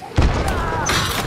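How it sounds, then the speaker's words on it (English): A chaos bomb goes off in the video game Hunt: Showdown, a single sharp thud followed by a crackling, sputtering burst that lingers briefly. "That's a chaos bomb."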